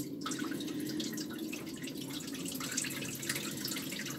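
Water is poured into a boat's bilge compartment, a soft, fairly quiet trickle and dripping that keeps going without a break, with no talking.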